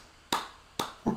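Three sharp, separate hand claps, each a crisp bright crack with a short decay. They land about half a second apart and stand alone against quiet room tone.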